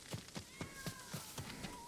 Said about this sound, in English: I hear a meow.